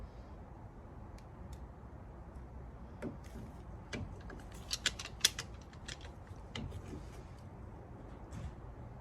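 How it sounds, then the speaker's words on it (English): A big pair of grips squeezes a brake caliper piston back on a Peugeot 107 during a front pad and disc change, giving faint, close creaks and ratcheting clicks over low background noise, with a few sharper ticks in the middle. "what I'm using to pull back this piston is a big pair of grips"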